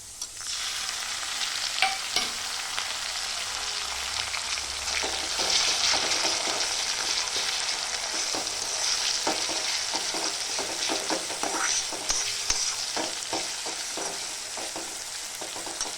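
Onion frying in a pan for a potato curry as tomatoes are added, a steady close sizzle with scraping spatula strokes and irregular stirring clatter, no voices.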